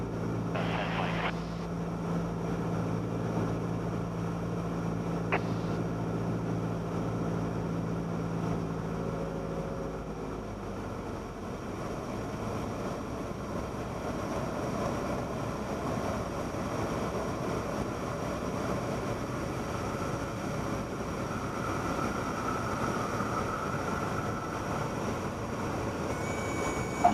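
A Cessna 172 engine drones steadily in flight at night, a constant propeller hum that shifts tone partway through and then continues as a broad, rough roar, with occasional voices over it.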